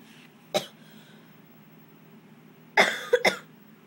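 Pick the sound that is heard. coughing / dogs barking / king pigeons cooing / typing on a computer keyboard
coughing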